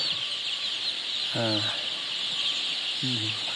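A couple of short harmonic hen clucks stand out over a steady background of birds in a chicken coop, with a hiss-like ambient wash throughout.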